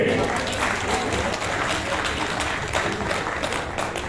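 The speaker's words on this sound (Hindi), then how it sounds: "दोनों हाथ से तालियां बजाइए" Audience clapping at a trade union working committee meeting in New Delhi, a dense, steady applause filling the hall with some voices mixed in.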